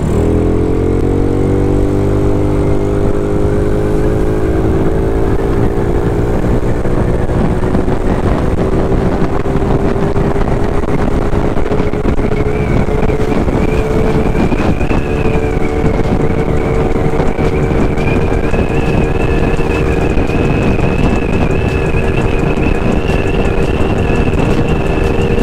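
A Yamaha Mio scooter fitted with a PE carburetor in place of its stock vacuum carb revs up and holds a steady, loud engine drone while riding, its pitch rising early then staying level under constant wind rush, with no talking.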